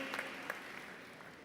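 Applause from an audience at a spiritual gathering for a newly appointed youth committee president, a steady, fairly distant wash of clapping lasting a little over a second.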